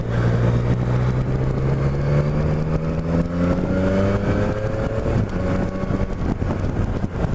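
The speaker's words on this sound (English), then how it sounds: "That is the mandatory rev bomb under a underpass." A motorbike engine, redline at 11,500 rpm, revs hard beneath a road underpass, rising pitch sweeping upward loud and close, then dropping back to idle with wind rush.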